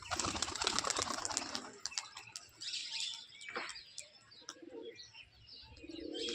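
Pigeons freshly released outdoors make a busy mix of chirps and soft coos, with occasional wing flaps, fairly close and continuous for several seconds.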